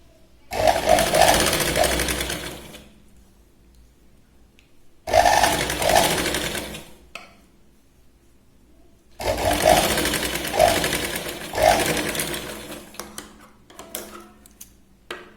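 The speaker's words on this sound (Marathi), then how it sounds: "आपण इथे आता कमी कापडात जे आहे ते ब्लाऊज इथे स्टिच करतोय" A sewing machine stitches a katori blouse in three loud bursts of rapid mechanical whirring, each lasting a few seconds and separated by quiet pauses.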